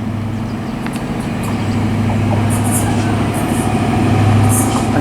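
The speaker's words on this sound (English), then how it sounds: "very slowly coming through, we've got another HST. This one's from Plymouth to London Paddington." HST high speed train on the Great Western main line, Plymouth to London Paddington service, rolling slowly past with a steady low rumble and hum that swells toward the end, brief squeaks over the top.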